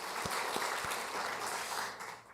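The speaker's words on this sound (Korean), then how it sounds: "하나님 앞에 박수로 영광 올려드리겠습니다" A congregation applauding during a church worship service, a steady wash of clapping heard at a modest distance that tapers off near the end.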